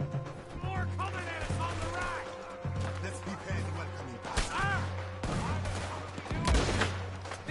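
Gunfire in Red Dead Redemption 2 on the island of Guarma, with a steady humming tone and repeated sharp shots and crashes scattered through the clip, while a voice speaks over the action.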